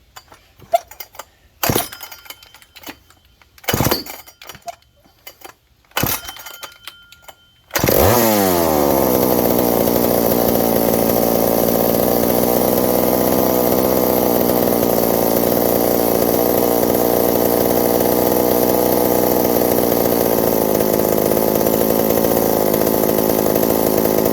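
A McCulloch 790 MC101 chainsaw starts after several sharp clinks and pull attempts, then roars into a loud, continuous idle that runs steadily to the end.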